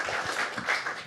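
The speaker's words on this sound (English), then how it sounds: "I just hope we can all give them another round of applause," A short burst of audience applause and clapping for bookstore staff at an author event, a moderately loud crowd wash under a faint voice.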